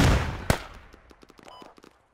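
Gunfire in the tactical shooter Squad: one sharp, loud nearby shot is followed by a scatter of smaller, more distant pops that fade out over about a second and a half.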